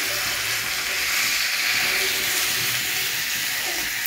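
Fish besara cooks in a wok with mustard oil and mustard gravy, producing a loud, steady, close sizzle and hiss that runs unbroken throughout.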